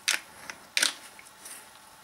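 Adapter fitted onto a Festool TI 15 impact driver, two crisp plastic clicks followed by a few lighter faint ticks and handling sounds, close and quiet, with no talk.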